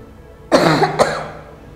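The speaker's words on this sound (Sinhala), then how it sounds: "උගුර පාදන්න බලන්න." During a swallowing screening test, a patient gives one loud, close throat-clearing that starts abruptly, with a second harsher push about half a second later before it fades out.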